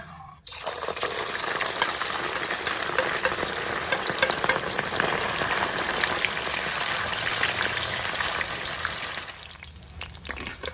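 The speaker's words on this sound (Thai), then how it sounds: "ปลาช่อนก็หั่นเสร็จเรียบร้อยแล้วนะครับก็ทอดเลย" Pieces of sun-dried snakehead fish fry in hot oil with a loud, continuous crackling sizzle that runs steadily before dropping away near the end.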